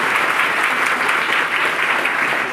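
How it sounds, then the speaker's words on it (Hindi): A room of students at a coaching institute claps loudly for their reasoning teacher, a dense, steady burst of applause lasting a few seconds. "जो सर के लिए एक बार जोरदार ताली आप लोग बजाएंगे"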